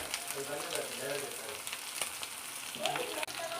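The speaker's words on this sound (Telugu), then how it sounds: "ఆయిల్ మొత్తం సపరేట్ అయ్యేంత వరకు ఫ్రై చేసుకోవాలి" Chicken liver frying in oil, a steady close sizzle broken by occasional stirring scrapes, with faint voice-like sounds in the background.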